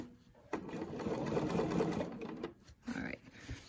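A Bernina 770 sewing machine runs a steady, close stitching burst for about two seconds, then slows with a few softer stops and restarts; faint voice-like sounds sit low underneath.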